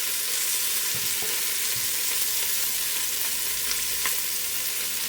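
Pieces of food brown in oil in a pot with a continuous moderate sizzle and crackle, joined by a few faint knocks and scrapes as the pot is moved. No voices are heard.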